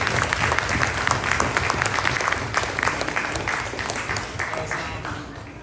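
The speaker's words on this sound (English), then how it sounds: "Give yourself a round of applause." A congregation applauds at a Hebrew summit Sabbath service, with dense, steady clapping that fills the whole stretch and eases slightly toward the end.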